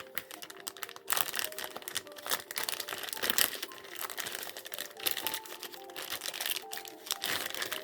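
A plastic bag crinkles and rustles as a pork belly is fitted inside it, with irregular close crackling bursts and pauses over several seconds.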